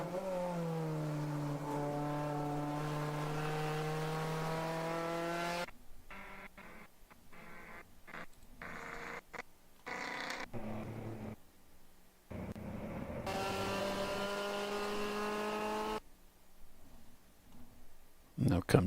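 Race car circling a road course during an endurance enduro, engine note held steady then broken into choppy, lightly feathered throttle bursts before picking up again, under a commentator's voice.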